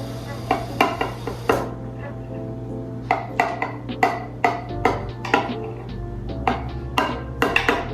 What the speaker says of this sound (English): With a little knife, let's just see what happens here. Cut you a small slice